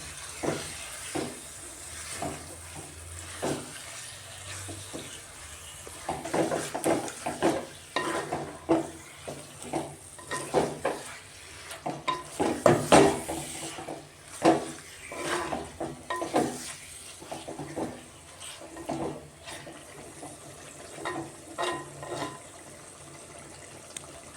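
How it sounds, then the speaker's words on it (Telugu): Chicken for biryani cooks in a pot over a medium gas flame, giving a quiet steady sizzle broken by repeated stirring scrapes and clinks of a spoon against the pan. "గ్యాస్ అనేది కొంచెం మీడియం మీడియం ఫ్లేమ్లో పెట్టుకొని చికెన్ని మగ్గించుకోవాలి"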